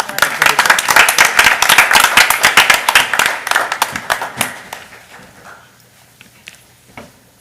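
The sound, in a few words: audience applause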